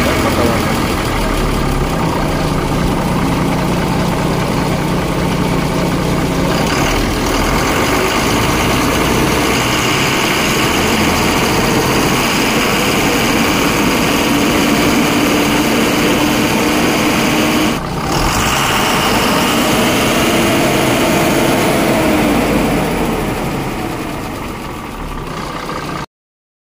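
A 2018 Tata-type 10-wheel 2518 BS4 lorry engine runs steadily at idle for the whole stretch, a constant low diesel rumble with a brief dip midway and some background noise.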